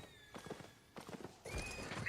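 Hooves clip-clop in a steady gait with a horse neighing toward the end, from a survival game built around the Mists, loud and close with no talk over it.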